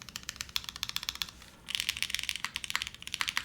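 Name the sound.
typing on a custom O-ring mechanical keyboard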